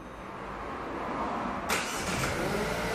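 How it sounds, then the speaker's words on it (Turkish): A Renault Megane 4 car engine starts: quiet background at first, then a sudden crank and catch about halfway through, settling into a steady idle nearby. "Çalıştırın arabayı."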